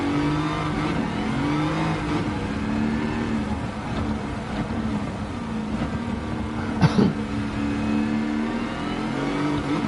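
Pontiac GTO Judge muscle car in Gran Turismo 7, its engine droning steadily with rising and falling revs, loud and continuous, one brief sharp blip partway through.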